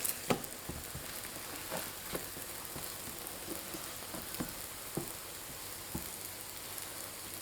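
Small pancakes fry in a pan at breakfast, a soft steady sizzle with occasional light pops and clicks as the pan is shaken, quiet and close with no voices.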